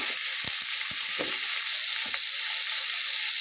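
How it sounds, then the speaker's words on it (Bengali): Prawns and pumpkin fry in hot oil with a loud, continuous sizzle and a few soft knocks from the pan and spatula; no voices. "তো আমি তেলের ভিতরে চিংড়ি মাছগুলো দিয়ে নিয়েছি।"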